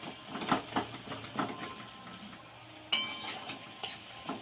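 Onion paste sizzles in a pan with a splash of water added, giving a close, busy frying crackle with repeated stirring scrapes and a sharp hiss as the water hits the hot pan.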